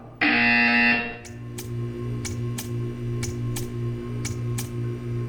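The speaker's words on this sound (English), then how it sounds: "You will hear a buzzer." A loud electronic buzzer from the video game Portal 2 blares for about a second, followed by a steady hum with a series of sharp, evenly spaced ticks.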